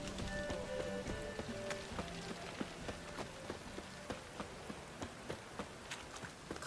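Steady rain falls on surfaces in The Witcher 3 game world, a soft, continuous hiss with scattered sharper drop taps, fairly faint and with no voices.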